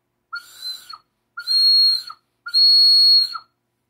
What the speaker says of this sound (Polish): jest ustnik i to normalnie słychać gwizdek